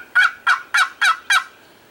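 A chalked turkey call imitating a gobbler sounds five quick, loud gobbling yelps in an even rhythm, close and alone.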